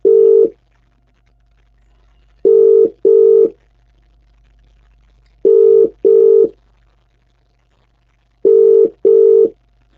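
Telephone dialing on a call-back line: short paired tone bursts repeat in four clusters about three seconds apart, clear and steady over near silence, with no talking.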